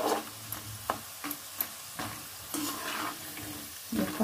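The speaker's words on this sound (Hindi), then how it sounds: "आंच को कम रखना है और अच्छे से कलर चेंज होने तक फ्राई करना है।" Besan-coated peanuts frying in oil over low heat for spicy namkeen, a soft continuous sizzle broken by occasional stirring clinks and scrapes, close and fairly quiet with no voices.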